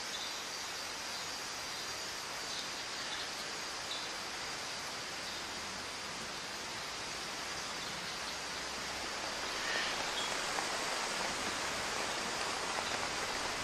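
Heavy rain downpour in lush outdoor vegetation, a dense, constant hiss of falling drops that swells slightly louder toward the end, with no voices.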